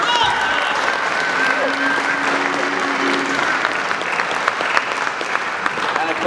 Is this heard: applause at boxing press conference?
yes